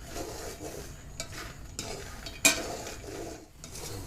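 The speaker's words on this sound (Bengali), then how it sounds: "এই বাদামগুলোও ভাজা হয়ে গেছে।" Peanuts are stirred as they dry-fry in a pan, giving a soft, continuous scraping and rustle with a few sharper metallic knocks, one standing out midway. The sound is close but quiet, and no one talks.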